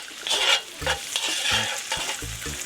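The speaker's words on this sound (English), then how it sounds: "Just give it a stir." Tofu with garlic frying in a pan over medium-high heat, stirred with a few short scraping strokes over a steady close sizzle.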